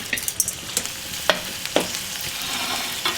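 A laddu mixture with raisins is stirred and roasted in a pan, giving soft sizzling under a series of sharp scraping strokes of the spoon against the pan, with no voices.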